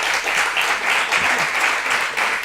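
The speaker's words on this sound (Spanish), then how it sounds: "yo creo que se merece un aplauso." An audience at a lecture on the art of studying breaks into applause, a dense sustained clapping that stays fairly loud and even for the whole stretch, with no voices over it.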